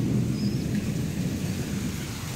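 Steady rain falls with a low, continuous thunder rumble rolling underneath, loud and unbroken, with no voices.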